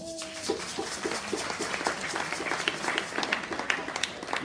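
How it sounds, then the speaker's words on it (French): Audience applause at a charity support day for children of a foundation, scattered claps building into a sustained, moderately loud patter after a brief tone at the start. "je demande que vous nous applaudissiez encore"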